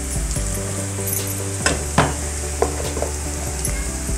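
Onions sizzle in a pan with turmeric for poha, with steady frying hiss and a few sharp scrapes and taps from stirring. The clicks are sparse and irregular and come from close by. No one speaks.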